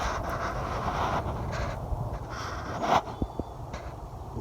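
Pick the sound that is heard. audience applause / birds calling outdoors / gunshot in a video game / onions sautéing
birds calling outdoors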